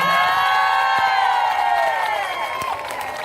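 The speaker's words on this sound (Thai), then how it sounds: "ขอเสียงปรบมือครับ" A large crowd at a political rally in Thailand cheers and shouts loudly, with sustained whoops and voices and some applause mixed in, fading slightly toward the end.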